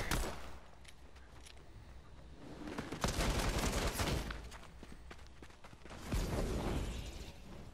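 Rapid bursts of pistol gunfire in the video game Fortnite, clustered into dense volleys with quieter gaps between them and a final burst near the end, heard alone without talk.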